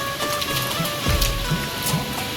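Steady rain falls outdoors in Surat, a continuous broadband hiss of drops on surfaces with a few slightly louder splashes, no voices present.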